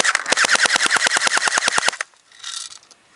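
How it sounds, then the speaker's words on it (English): Rapid burst of about twenty sharp, loud shots from a Galaxy Mk5 PDW airsoft gun firing BBs in a steady automatic rhythm, then a short mechanical whir as the fire stops. "It's a loud gun too."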